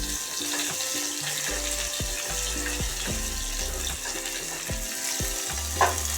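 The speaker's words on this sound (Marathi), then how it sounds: "त्यात टाकणार आहे अद्रक लसणाची पेस्ट" Ginger garlic paste frying in a pan for a spiced matki rice dish, a continuous sizzle with soft stirring scrapes and a single clink near the end, no talking.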